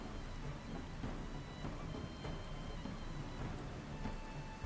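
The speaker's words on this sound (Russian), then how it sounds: "Мы же в шторм воюем" Storm ambience in the video game Wartales: a constant dense hiss of heavy rain with low rumbling thunder rolling underneath, steady and enveloping throughout, with no speech.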